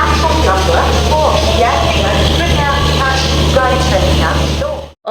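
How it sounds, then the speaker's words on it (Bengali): A superfast express passenger train pulls in at platform 4 of a station on the route to Gaya, a loud, continuous rumble and clatter close by, with voices of waiting passengers mixed in before it cuts off. "অবশেষে দীর্ঘ প্রতীক্ষার পর আমাদের ট্রেন চলে এলো।"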